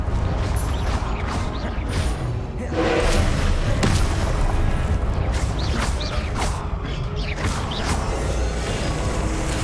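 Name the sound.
Confringo spell blast from Hogwarts Legacy video game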